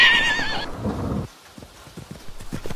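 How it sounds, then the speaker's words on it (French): A horse whinnies loudly up front, then hooves beat in a quick galloping rhythm as it crosses a river, the clip-clop carrying on to the end. "Le cheval passe la rivière au galop."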